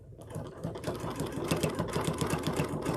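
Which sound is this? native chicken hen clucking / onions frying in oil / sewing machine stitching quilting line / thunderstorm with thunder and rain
sewing machine stitching quilting line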